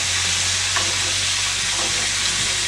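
Small scallops sizzling in a hot pan, a steady close frying hiss with faint crackles throughout, no talking.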